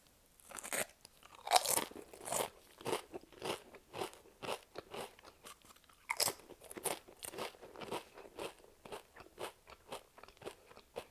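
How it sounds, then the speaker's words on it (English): Someone crunching ketchup flavored potato chips close up, bite after bite in a steady rhythm of sharp crackling crunches with short pauses, with no talking. "One of the great Canadian flavors we have, ketchup flavored chips."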